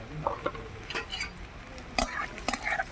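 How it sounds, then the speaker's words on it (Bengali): Pieces of spiny gourd (kakrol) fry in oil with onion and dried red chilli: a soft sizzle broken by spatula scrapes and light metallic clinks against the pan, with no talking. "এবার কাঁকরোলগুলো তেলের উপরে দিয়ে দিলাম"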